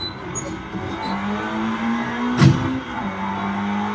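A Honda car's engine revs up, a steady rising drone with a brief sharp burst midway, then a sustained hum continuing to the end.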